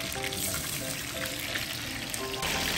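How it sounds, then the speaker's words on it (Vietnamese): Food frying in a pan at a Cà Mau eatery, with a steady crackling sizzle of oil filling the short clip and faint background clatter, no voices. "Và đây thấy bà chủ đang chiên."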